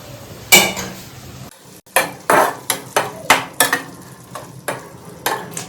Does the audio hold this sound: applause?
no